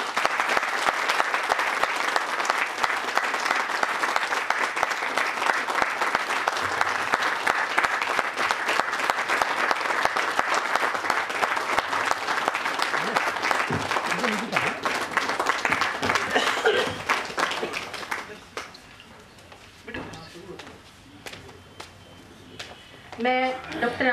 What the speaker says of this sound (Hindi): आप जब तक मंच पर नहीं आएंगे तालियां बजती रहनी चाहिए